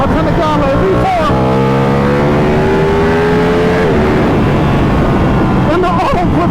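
A Ducati Panigale V4 R motorcycle engine while riding, loud and close, with a rising rev that holds and then drops as it shifts, wind noise blended in.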